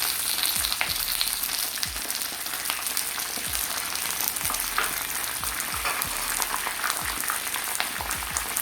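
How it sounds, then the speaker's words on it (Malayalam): Chicken pakkavada frying in hot oil with curry leaves gives a dense, steady sizzle and crackle that stays loud and close throughout, with no voices. "ഒന്നിച്ച് നമുക്ക് വറുത്ത് പോരാം"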